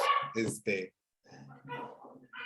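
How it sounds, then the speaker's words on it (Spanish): Several dogs bark and whimper close by in a home, in short loud bursts broken by a brief pause, with talking heard alongside. "Perdón por el escándalo, esos son mis perros."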